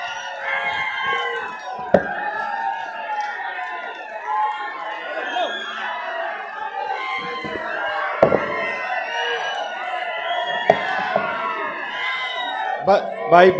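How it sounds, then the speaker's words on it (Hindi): A crowd at a Congress political rally in Haryana whoops and cheers loudly and without a break. Shrill shouts and whistles mix with a few sharp bangs, and the noise is heavy and continuous. "भाई किलकी न मारो, ये किलकी नहीं भाई।"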